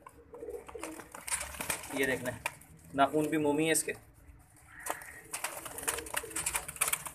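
Pigeons coo softly in close quarters inside a cage at feeding time while someone talks over them, with rustling and shuffling in between.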